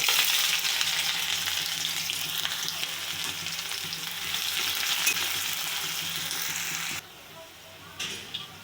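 Onions hit hot oil with caramelised sugar and whole garam masala in a pan for kabuli chana, giving a loud, dense, continuous sizzle close by that cuts off sharply near the end, leaving a few faint clinks.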